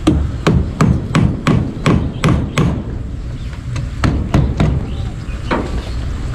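A hammer drives a nail into a wooden support in two bursts of sharp, evenly spaced strikes, about eight quick blows and then a shorter run after a pause, loud and close with no talk.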